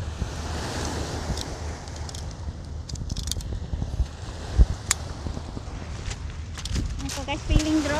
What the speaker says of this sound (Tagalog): Tabing dagat.